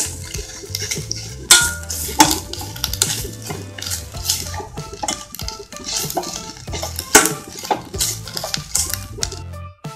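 Grated coconut being stirred and fried in a pan, with repeated sharp clinks and scrapes of a utensil against metal over a faint background sizzle, irregular and close.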